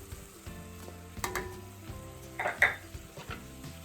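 White rice flour stirred in a soup pot for gluten-free broccoli cheddar soup, a soft sizzle with scraping and a few light utensil knocks against the pot, close and fairly quiet.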